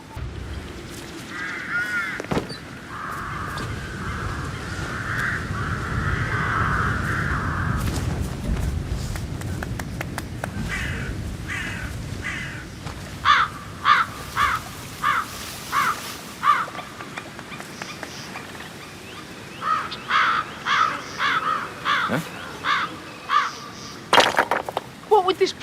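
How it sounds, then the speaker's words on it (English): Crows cawing in Hitman 3, a series of loud harsh caws in short rhythmic bursts, some spaced evenly, others bunched, over a low ambient rumble with a voice speaking early on. "Damn birds."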